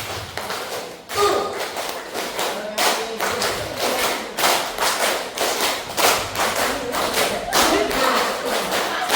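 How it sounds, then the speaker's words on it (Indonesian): A standing group of teachers and staff at an SMKN 1 Merapi Timur training session clapping 25 times in unison as an ice-breaker: a steady, even run of sharp, fairly close claps with no pauses. "Tepuk 25 kali."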